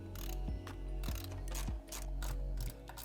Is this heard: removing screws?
yes